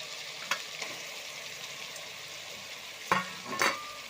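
Onions frying with ginger-garlic paste for goat head curry, a low steady sizzle broken by a few sharp clanks of a spoon against the pan, near and without talk.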